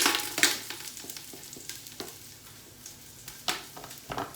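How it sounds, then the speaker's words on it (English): Minced garlic sizzles and crackles in a very hot pot, with a steady fry hiss, scattered pops and a few scraping stirs, close up and moderately quiet. "let me just add the minced garlic to that popping ass pot right over there"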